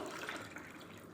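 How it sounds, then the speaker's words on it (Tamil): Water poured into a pot for making sago vadam in a home kitchen, a soft, continuous splashing and gurgling stream, quiet and near, with no voices. "ஃபோர் கிளாஸ் வாட்டர் சேர்த்துக்கிறேன்"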